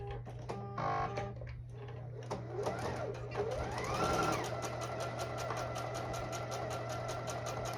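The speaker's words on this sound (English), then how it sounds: "I'm just going to stitch this neck facing to the front piece" A domestic sewing machine stitching a neck facing to the front piece of an A-line dress, running in a steady rapid rhythm of needle ticks over a constant motor hum, close and fairly quiet, after a few brief clicks.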